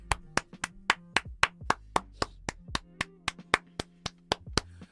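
Slow, sharp hand claps ring out one at a time in a steady rhythm, about three per second, close and distinct over a faint low hum.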